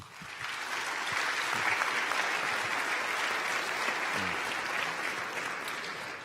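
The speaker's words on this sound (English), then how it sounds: "So a big applause for the sponsors" An indoor conference audience applauds the event sponsors, with dense, sustained clapping from a large crowd that holds steady for several seconds before tapering slightly at the end. No voices are heard.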